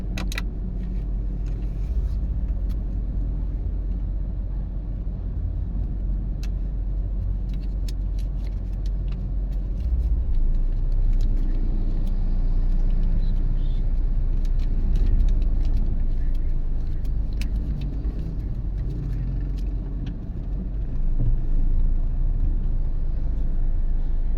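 Continuous street traffic on a city road in Barangay Galas, with a steady low rumble of car and bus engines, occasional revving and passing vehicles, close and fairly loud throughout, no talking.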